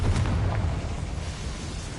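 Confringo fire spell explosion in Hogwarts Legacy, a loud, low rumbling burst that booms at the start and rolls on as a dense roar for about two seconds with no voices.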